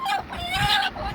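A bad-tempered hen sitting on eggs close to hatching in a farm aviary gives a brief, close cluck.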